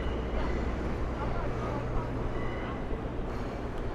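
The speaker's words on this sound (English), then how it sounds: "Sound of some normalcy, the New York City subway." A New York City subway train in the Financial District fills the space with a loud, continuous low rumble and roar that holds steady throughout.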